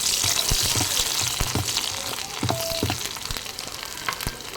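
Onion and garlic sautéing in a pan for a coconut-milk dish of sweet potato leaves and tuna, with a steady broadband sizzle, some watery clatter and utensil knocks. No one speaks.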